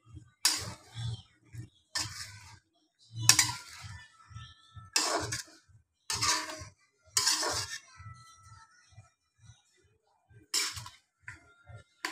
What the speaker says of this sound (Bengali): এবার সজনে ডাঁটাগুলো আমি সুন্দরভাবে এর সঙ্গে একটু কষিয়ে নেব